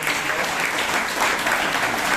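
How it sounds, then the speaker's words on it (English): Steady, dense clapping from a Toastmasters meeting audience applauding Karunakar, filling the short moment evenly at moderate loudness without a break. "So for a good job done, please give Karunakar a big round of"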